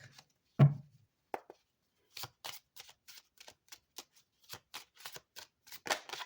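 Kipper deck cards shuffled and handled in a quiet room, a sharp riffle followed by a run of crisp, irregular flicks and taps, close and clear with no talking.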